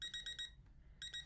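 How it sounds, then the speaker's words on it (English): A one-hour timer alarm beeps in rapid, evenly spaced pulses, then pauses briefly and resumes, loud and close in a quiet room. "because my 1 hour timer went off."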